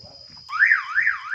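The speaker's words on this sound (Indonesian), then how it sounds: "alarm akan bunyi" A universal car alarm fitted to a 2011 Innova E, triggered by an opened door, kicks in after a faint tone, its pitch sweeping up and down in a loud, rapid electronic wail.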